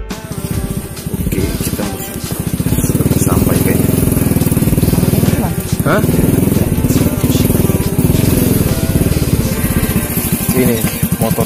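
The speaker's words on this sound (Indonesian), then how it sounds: "Ini motornya Wawan." A motorcycle engine idles close by with a loud, steady, rapid chugging pulse that swells slightly and holds throughout, with some faint voices underneath.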